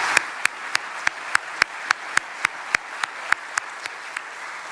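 At the 2024 Brownsville State of the City address, an audience applauds city health center staff; a loud, evenly spaced rhythmic clap stands out above a continuous wash of crowd clapping, about three beats per second.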